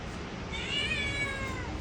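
A house cat meows in a drawn-out, wavering call that rises and falls over about a second, close and fairly clear above a soft room hiss.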